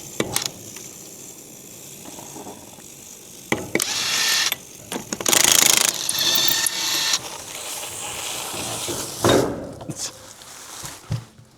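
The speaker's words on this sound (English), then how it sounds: "we're jacking on something" A jack ratchets and clicks as it lifts a badly cracked trailer, irregular mechanical clanks and scraping bursts of varying loudness, close by with no talk.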